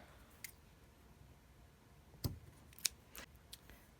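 Scissors snip through thick craft twine close by, giving a few quiet, distinct crunching cuts and clicks spaced over a few seconds with no talking.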